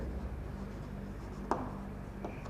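A pen or marker scratches faintly across a board or page as a trigonometry lesson on a ladder and pole is written out, with one sharper tap midway.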